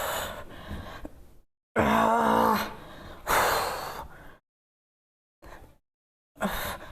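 Heavy breaths in and out during a stretching workout, loud strained exhalations and groaning pushes separated by silent pauses, close to the microphone.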